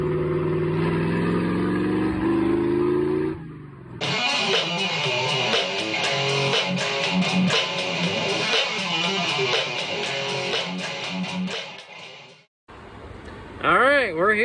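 A Jeep CJ5 engine fitted with a Quadrajet carburetor runs rough and lean, barely idling, with a steady mid-pitched drone. A voice talks over it at the start before the engine carries on alone.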